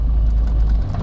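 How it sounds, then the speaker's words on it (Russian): A VAZ 21099 petrol engine runs steadily as the car pulls away with three people aboard, a close, constant low drone with a slight rise in revs and no talking. "Мотор мы завели, и вот мы трогаемся"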